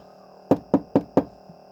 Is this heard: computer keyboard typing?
no